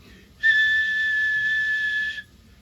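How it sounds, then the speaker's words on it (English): A single steady whistle is fed into an SBE Sidebander V CB radio microphone as an improvised two-tone test. The tone holds for nearly two seconds, clear and loud over a quiet background, then stops abruptly. "If you put a little whistle into it, that's my impromptu 2-tone test mode there."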